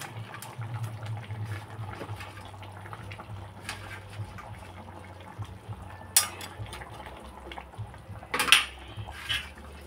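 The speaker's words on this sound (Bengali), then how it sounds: "এখন দিয়ে দিচ্ছি মোচার ধোকাগুলো দিয়ে দিলাম" Pieces of fried banana-flower dhoka are dropped into a cooking pot, giving soft clinks of utensil on metal with a couple of sharper knocks and faint liquid movement, quiet and without voices.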